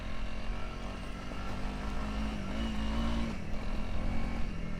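A motorcycle with new Hyperpro suspension ridden just over 40 km/h on a rocky trail, giving a steady, loud engine drone with a slight rise and fall in pitch and constant wind and road rumble.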